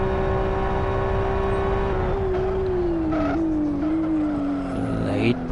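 Touring race car in a racing video game braking into a turn, engine note dropping in pitch as the tires squeal sharply near the end, loud and close, with a commentator's voice nearby.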